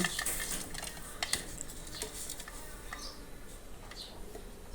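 A spoon clinks and scrapes while scooping spicy Thai cricket salad onto a plate, light metallic taps and ticks scattered over a quiet room, close and faint.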